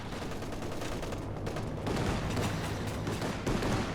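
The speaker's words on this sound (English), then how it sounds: "And in comes the R2 strafe." An R2 aircraft strafing run in Company of Heroes 2 brings a continuous rattle of distant gunfire and explosions, a dense fusillade that swells louder partway through.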